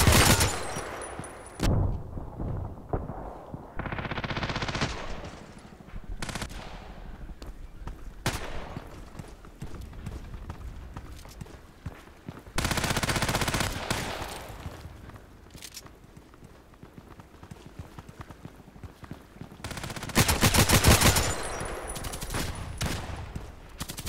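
Assault rifle fire in the shooter game Contract Wars comes in several short, loud bursts separated by quieter stretches with footsteps and faint game ambience.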